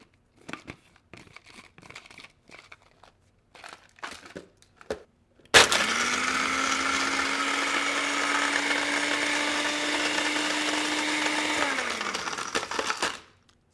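A NutriBullet 600W blender starts with a few clicks and taps, then roars loud for about eight seconds while the blades crush ice, holding a steady motor whine before winding down and stopping.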